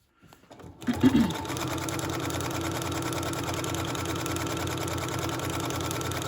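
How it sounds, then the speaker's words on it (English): A sewing machine stitches along the side of a fabric journal cover, starting after a brief pause and then running in a steady, loud, even mechanical whir close by. "I'm just going to sew this side."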